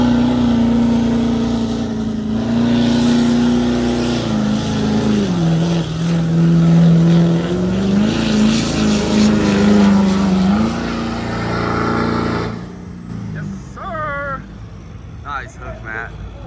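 A single cab Ford 6.7 Power Stroke diesel pickup roars at a street sled pull, engine droning loud and sustained while pitch rises and dips, then drops off as an announcer talks over the crowd.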